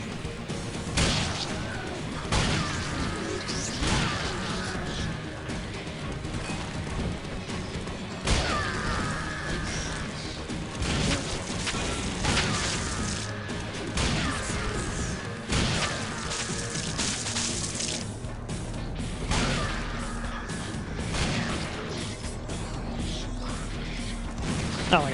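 Shotgun fire in Killing Floor (KFMOD 2.5 mod): repeated heavy blasts with mechanical reload clatter, set in a dense, continuous game soundscape with no talking.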